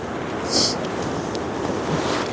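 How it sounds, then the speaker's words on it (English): Strong coastal wind at low tide rushes steadily against the microphone, a broad roar that swells into a gust early on before easing slightly. "Like, that wind gust,"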